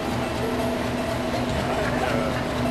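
A passenger train travelling to Machu Picchu in Peru gives a steady, loud rumble of wheels and carriage noise from inside the car, with faint voices underneath.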